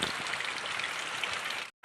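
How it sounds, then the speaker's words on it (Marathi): Heavy monsoon downpour in the Konkan region, a dense steady hiss of rain drumming on surfaces, loud and close, continuous until it cuts off abruptly near the end. "जोराचा पाऊस येतो"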